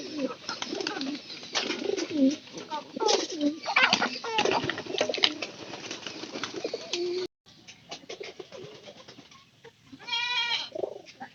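Domestic pigeons coo in soft, repeated throaty calls close by, mixed with rustling and other farmyard noises, with a brief cut and a clear rhythmic cooing burst near the end.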